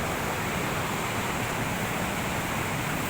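Rangit river in Sikkim rushing past a hot spring, a steady loud broadband roar of flowing water lasting throughout, close and unbroken, with no voices.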